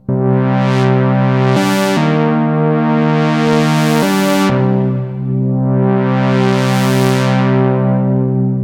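A buzzy Moog Prodigy two-oscillator analog synthesizer holds sustained notes while its filter sweeps up and down in bright, swelling waves, with a few abrupt pitch changes.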